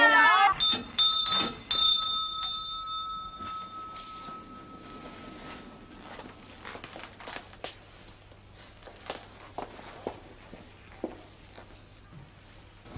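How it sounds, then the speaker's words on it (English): A bell rings with a clear sustained tone at the start, fading away, followed by scattered light knocks and shuffling sounds. "Ring the bell."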